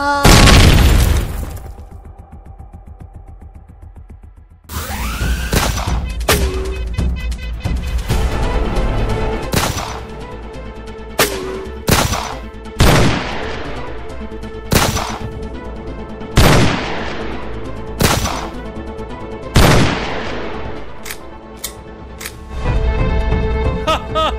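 Gunfire in a Hindi action movie set in Dimapur, Nagaland: a burst of loud shots opens, then a lull, then a series of sharp, widely spaced shots and impacts ring out over a low rumbling score.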